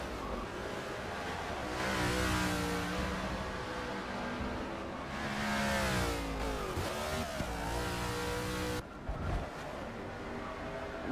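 NASCAR race car engines roar and rev loudly in a Coke Zero Cup race video game broadcast, the whining pitch climbing and falling continuously as cars pass, with no talk over the engine noise.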